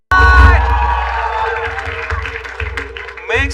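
A studio audience at a talent-show taping cheers and claps loudly over a ringing musical chord, with shouting and whoops mixed in and a voice speaking over the crowd.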